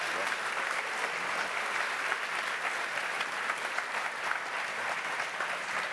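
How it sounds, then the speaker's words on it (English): Sustained audience applause at Frontier Expo 2017, a steady dense wash of many hands clapping at moderate level throughout, with no voices over it. "I feel like I keep cutting the applause off."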